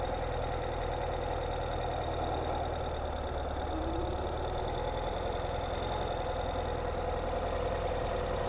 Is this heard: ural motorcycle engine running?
yes